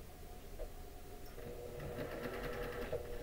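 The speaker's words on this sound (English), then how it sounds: "I'm getting better about not trying to cut my thread while the machine's still moving" A sewing machine runs steadily while stitching an overnight bag at a quilting session, a continuous close mechanical whir with rapid needle chatter that grows slightly louder partway through.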